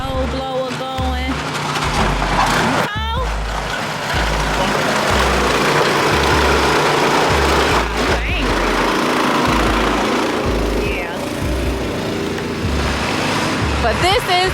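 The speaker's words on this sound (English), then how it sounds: "trying to get the snow blower going." A snow blower engine sputters and catches on a snowy Chicago patio, a running small-engine drone with uneven pulses and pitch swings, close and steady under a voice talking throughout.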